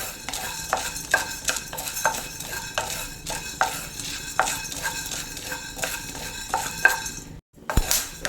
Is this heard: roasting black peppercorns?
yes